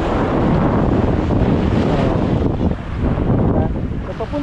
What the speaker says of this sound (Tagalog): So ito po ang dagat.